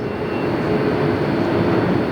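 A small plane passes at Los Angeles International Airport, seen from a hotel, as a steady, loud engine drone that holds evenly throughout with no talk.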